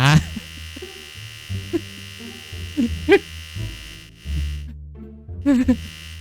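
Electric razor buzzing while shaving a customer in a barbershop game, a steady tonal hum that swells and fades in short passes, with someone talking over it at times.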